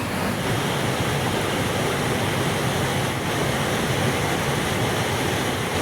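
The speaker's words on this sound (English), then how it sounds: "This gives you an idea of just the base of the falls" A waterfall roars steadily at its base, a dense, continuous broadband rush of falling water heard up close and loud throughout, with no talk.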